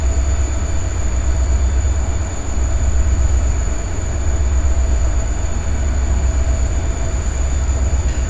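Empty coal freight train rolling up the Butte Sub in Train Simulator 2022, a steady loud rumble of wheels and cars with a constant high whine running throughout, no voices.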